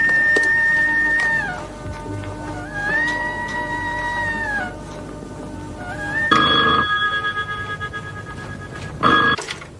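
Telephone ringing in a home in a 1992 Pakistani Urdu television drama, with repeated electronic trills in bursts separated by brief pauses, loud and clear, with no talking.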